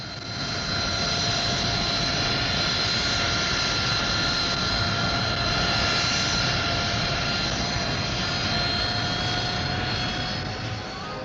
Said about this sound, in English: Her powerful Pegasus engine has nozzles that swivel back in level flight, forward for braking in flight